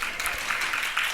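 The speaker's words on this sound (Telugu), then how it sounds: "చప్పట్లు కొట్టి దేవుని స్తుతిద్దాం." A church congregation claps together in praise, a dense, steady wash of hand claps that fills the whole short moment with no voice over it.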